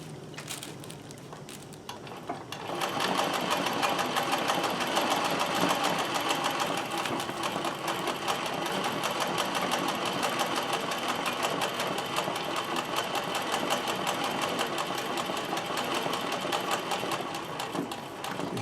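Sewing machine stitching embroidery runs with a fast, steady mechanical chatter that starts after a quiet moment and continues close and loud without pause.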